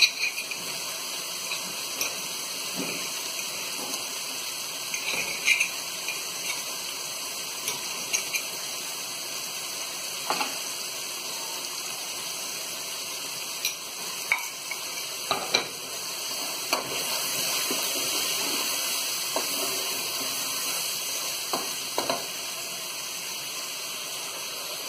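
A fried egg crackles in a pan with a continuous close sizzle, sprinkled with small pops and sharp spits, running unbroken for about twenty-five seconds with no voices.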